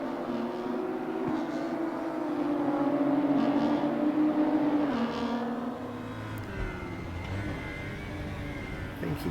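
A BMW M235i Racing Cup car in RaceRoom at Zandvoort, engine droning and rising under acceleration, steady and moderately loud with a brief gear-change dip near the end.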